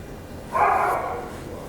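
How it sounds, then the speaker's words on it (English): A large dog barking from downstairs in a house, one muffled, mid-loud burst heard at a distance through the floor in an otherwise quiet room. "She's got a mighty big bark."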